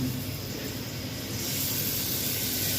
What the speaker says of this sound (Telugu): బౌల్ పెట్టేసుకొని ఆయిల్ పోసుకుందాం